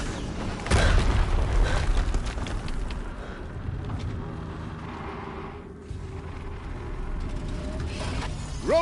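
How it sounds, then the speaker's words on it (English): A loud explosion booms in the video game Horizon Zero Dawn, a sharp blast followed by a lingering rumbling and debris-like decay under continuing game ambience. "Another explosion."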